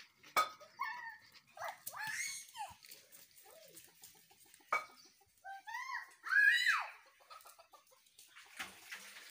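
Dog barking and yelping outdoors among clucking chickens and a rooster, several short irregular barks at moderate distance mixed with fowl calls.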